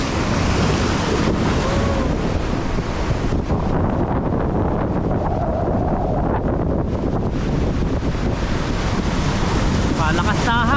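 Strong wind roars and buffets the microphone nonstop at sea on a boat during a fishing trip, mixed with loud surf and waves, with faint voices in the background.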